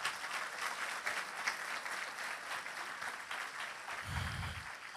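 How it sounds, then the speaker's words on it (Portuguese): A church congregation at a Portuguese-language service applauds together, a dense, even wash of clapping from many hands that holds steady throughout with no break. "Aplauda o Senhor."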